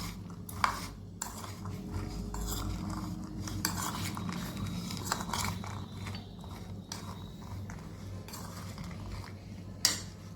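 A spoon stirs spices into boiled chickpeas for chaat, giving scattered metallic clinks and scrapes against the bowl with a few sharper knocks between softer scraping passes, close and fairly quiet.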